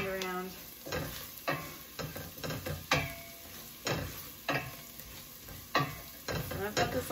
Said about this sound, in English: So we're going to add the ginger that we chopped. So that's going to go in next. And then you're going to keep stirring it.